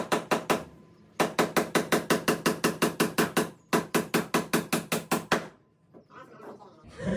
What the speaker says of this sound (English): Just tap the hammer.